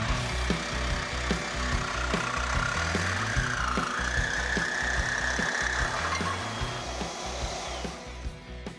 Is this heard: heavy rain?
no